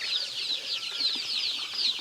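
Young Peruvian creole chicks, a few days to about two weeks old, peep constantly in high, rapid chirps, a dense overlapping chorus heard fairly close.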